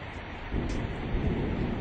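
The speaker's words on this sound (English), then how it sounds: "It is raining." Rain falls steadily with a low rumble of thunder swelling midway, a short stormy burst heard alone without any voices.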